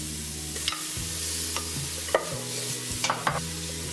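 Celery and grated fennel, with garlic, sweating in a pan over a steady low sizzle, punctuated by occasional light clicks and scrapes of stirring; no talking.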